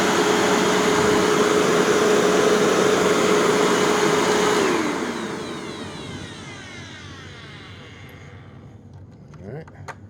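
A machine belt runs against a metal belt guard, giving a loud, steady mechanical whir and rush that holds for about five seconds, then winds down into a fainter, fading rumble.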